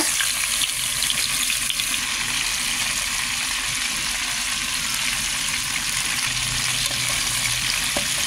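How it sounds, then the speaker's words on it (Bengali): Chicken pieces fry in a frying pan, browning on both sides. A loud, continuous sizzle runs throughout and is joined by light stirring sounds, with no talk. "মুরগির মাংসগুলো একটু একটু করে আর কি এপিট ওপিট লাল করে নেব"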